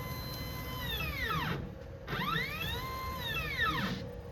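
CNC router gantry traveling toward the viewer, its stepper motors whining in rising and falling sweeps over a steady machine hum; two clear moves, close and fairly loud, with no voices.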